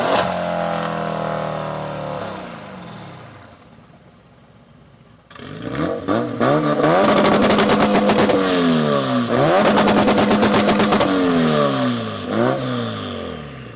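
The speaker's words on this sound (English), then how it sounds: "let me know who won the sound checks. The AMG's 4-litre V8 twin-turbo or the Mini's 4-cylinder single-turbo" A Mercedes-AMG C63S 4-litre twin-turbo V8 and a Mini 4-cylinder single-turbo revving in turn, one engine fading out before a louder burst of repeated throttle blips and rising revs takes over, close and loud with no talk.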